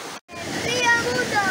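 Rushing water at the source of the Río Mundo near Riópar, Albacete, a steady close roar of flowing water after a brief dropout, with faint tonal sounds above it.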